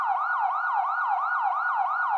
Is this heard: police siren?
yes